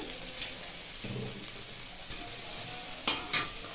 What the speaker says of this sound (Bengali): এতে আমি দিয়ে দেবো টমেটো কুচি